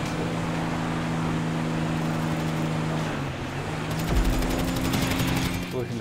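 Gunfire from shooting at a rival during a first-person race in GTA Online on PS4, a rapid burst of shots near the end over constant engine drone and game sound.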